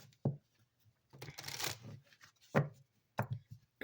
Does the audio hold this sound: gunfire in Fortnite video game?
no